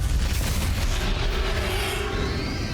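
A Confringo blasting spell from Hogwarts Legacy erupts in heavy booming blasts, a dense low rumble of explosions filling the whole stretch with no voice over it.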